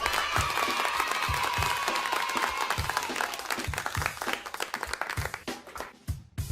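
Children in a second-grade class clap out the Islamic tepuk anak soleh chant, a fast, steady run of loud rhythmic claps with some voices at the start that thins into looser, scattered claps.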